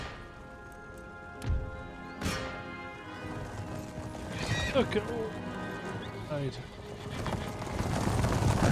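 Cavalry horses whinny and hooves clatter amid battle noise in the video game Empire: Total War, with someone talking over the commotion.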